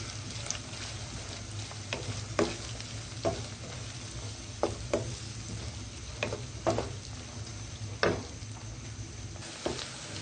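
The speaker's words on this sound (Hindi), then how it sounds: "लहसुन और अदरक के पेस्ट को फ्राई किया है। अब हम इसमें प्याज शामिल करेंगे। प्याज को हम हल्का गोल्डन करेंगे।" Onions fry in a pan with garlic-ginger paste, giving a steady, quiet sizzle broken by occasional sharp taps from stirring.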